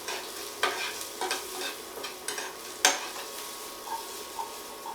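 Vegetables seasoned with ginger, Himalayan pink salt and pepper powder being stirred and sautéed in a pan for a vegan stew, with a steady sizzle broken by a few sharp scraping stirs and clinks of the utensil.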